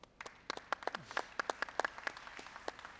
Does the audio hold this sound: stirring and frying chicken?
no